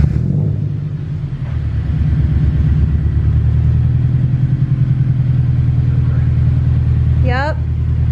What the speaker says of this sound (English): I'm gonna start up my car